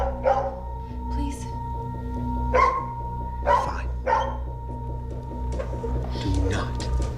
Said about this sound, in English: if he keeps barking, well, the neighbors are gonna call the cops